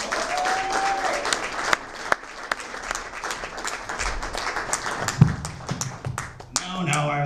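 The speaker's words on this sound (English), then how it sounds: "Big round of applause for Mike Casa Grande." Audience applause and clapping for a comedian at a stand-up comedy show, a sustained crowd clap with sharp individual claps standing out, a few voices rising near the end.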